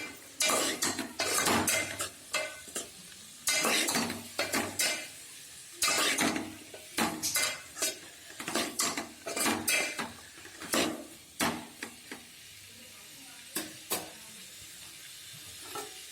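A spoon stirs carrot and tomato curry in a pan, giving repeated metallic scrapes and clinks in irregular bursts, close and fairly clear, with light sizzling between strokes.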